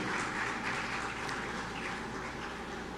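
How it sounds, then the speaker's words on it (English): Sustained applause from an assembly audience at an annual general assembly opening ceremony for a broadcasting union, a steady dense patter of many hands clapping continuously with no talk over it. "another round of applause, please, for Dr. Claire Grant"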